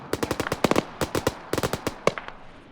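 Bursts of machine gun fire from an MG nest beside a church in Arma 3, several short rattling volleys of four to six rounds each, moderately close with brief gaps between them.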